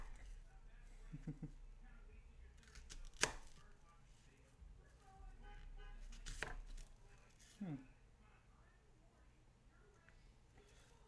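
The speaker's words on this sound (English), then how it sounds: "Get these onions chopped." A knife chops onions on a board in a home kitchen, a few sparse, sharp knocks spread across the clip, faint and quiet beneath a person talking.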